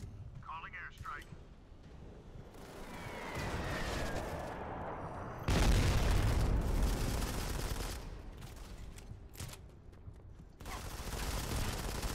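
Airstrike explosions and rolling gunfire in the Modern Combat 5 shooter on PC, with a heavy blast partway through over dense, continuous battle noise and a voice talking.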